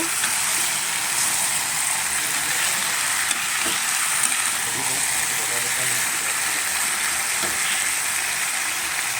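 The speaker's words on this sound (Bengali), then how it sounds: "আর এই তো এখন আমি ভালো করে আলু পেঁয়াজটাকে চিংড়ি মাছের সঙ্গে কষিয়ে নেব।" Potato and onion sautéing with prawns in a pan, a constant even sizzle with occasional faint stirring scrapes, close and steady throughout.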